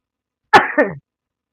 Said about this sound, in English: I don't know whether I'm sneezing or coughing